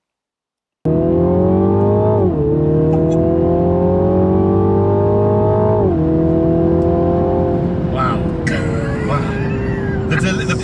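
A 2020 Mini Clubman John Cooper Works engine pulls hard with a loud, grunty tone, rising through two gear changes and then holding a steady drone, with some clatter and rustle toward the end.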